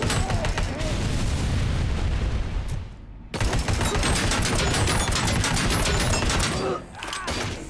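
Gunfire and a grenade blast in the shooter game Robocop: Rogue City: dense, loud bursts of shots and booms fill the scene, broken by a brief dip before the firing resumes just as heavily.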